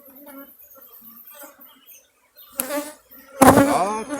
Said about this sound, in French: je transvase le plus possible d'abeilles doucement, pour essayer d'en traumatiser le moins possible